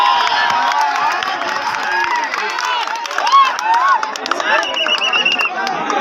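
Crowd cheering and whooping with scattered applause at a kabaddi tournament final in Noida, a dense, continuous roar of many voices with shouts rising and falling throughout.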